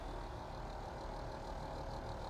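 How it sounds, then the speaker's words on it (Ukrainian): A tractor engine in Farming Simulator 25 runs with a steady low idling rumble, quiet and continuous, with no talk over it. "Сідаємо до трактора, запускаємо двигун."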